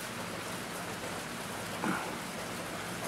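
Steady rain falls outdoors near a deck under construction, a dense even hiss of drops on surfaces with one faint brief knock partway through.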